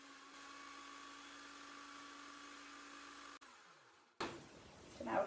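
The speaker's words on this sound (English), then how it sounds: "So I'm going to use my my skew chisel to work away at that." A skew chisel cuts wood on a spinning lathe, a steady motor whine with a tonal hum that dips, then gives way to a rougher, scratchy cutting burst near the end.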